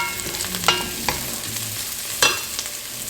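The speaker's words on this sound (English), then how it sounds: "So I'm going to use ginger garlic. And just I'm going to fry this just for a minute" Ginger garlic paste fries in a pan over caramelized onions with a steady moderate sizzle, broken by a few sharp scrapes and clinks of a stirring utensil.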